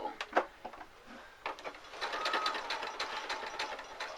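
A sewing machine stitching fabric for a glasses case gives off rapid mechanical ticking and clattering, with a few separate clicks first and then a faster continuous run of stitches, fairly quiet and close.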